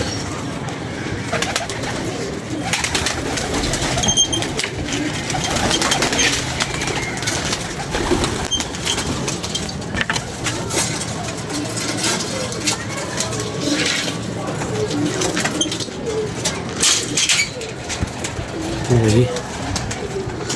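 Pigeons cooing around a pigeon loft as birds fly in: soft, repeated low coos close by under ongoing conversation and general outdoor background noise.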